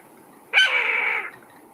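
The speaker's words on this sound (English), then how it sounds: "Woodhouse's scrub jay" A Woodhouse's scrub jay gives a single harsh, rasping call lasting under a second, loud and near against a quiet background.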